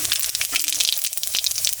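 Dried red chillies, bay leaves and cumin seeds sizzling in hot oil, a dense, loud, continuous crackling fry heard up close without any voices.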